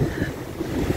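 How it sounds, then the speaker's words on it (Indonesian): Strong wind buffeting the microphone at a beach in Bali, with a heavy, continuous low rumble of gusts and surf and no voices. "Malah ada angin kencang ya guys"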